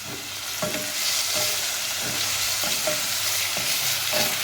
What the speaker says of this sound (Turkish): Hepsini güzelce kavuracağız arkadaşlar. Mantarlar suyunu salacak,